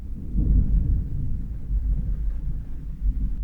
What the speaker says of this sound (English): We are, in fact, recording in the middle of a thunderstorm, if you hear that.